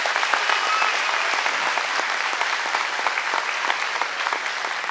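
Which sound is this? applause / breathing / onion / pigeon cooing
applause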